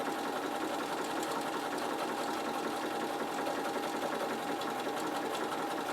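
A Bernina sewing machine stitches a design onto wool with a continuous, even, buzzing hum that stays close and steady throughout, no pauses and no voices.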